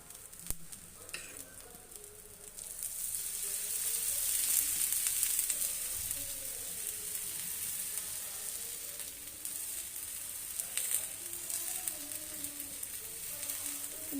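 Masala ragi roti sizzles steadily on a hot pan in a home kitchen, a continuous bright frying hiss that swells slightly midway and carries on alone without talk.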